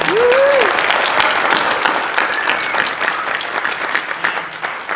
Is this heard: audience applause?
yes